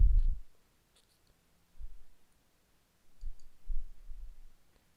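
Mouse clicks at a computer while marking products as featured in a WooCommerce online store, a few soft, close clicks spaced apart with quiet gaps between them.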